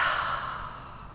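A single big, noisy breath taken as part of an EFT tapping routine, loud and close, a rushing inhale-exhale that fades gradually over about a second with no talking.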